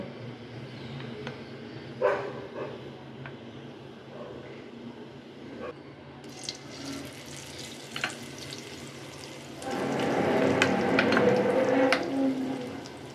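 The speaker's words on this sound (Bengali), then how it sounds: "পটলগুলোকে ব্যাটারে দিয়ে একটা একটা করে তেলের মধ্যে ছেড়ে দিব" Battered pointed gourd pakoras dropped into hot oil, a soft steady sizzle that swells into a loud, dense crackling fry once more pieces go in.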